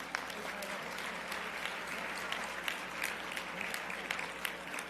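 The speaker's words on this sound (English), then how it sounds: "So give them another round of applause." An audience at an annual Dr. Martin Luther King Jr. breakfast applauds the honorees, a continuous round of clapping with a few sharper individual claps standing out near the front.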